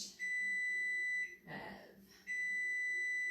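A kitchen timer beeping in a home kitchen during cooking, a loud high-pitched continuous tone sounding twice with a short gap between, a brief voice in the pause.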